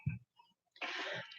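A short low cough bursts up front, followed after a pause by a longer, rougher hacking cough, both fairly close with nothing else heard.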